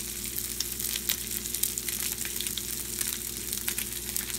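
Ahi tuna sears in a hot pan with a continuous close crackling sizzle and small pops, no voices.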